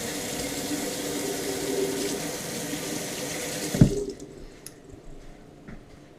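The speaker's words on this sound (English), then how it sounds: "Just gonna wash my hands here for a second." Water runs steadily from a tap for hand washing, a loud continuous splash that stops abruptly partway through, leaving a few faint drips and small handling sounds.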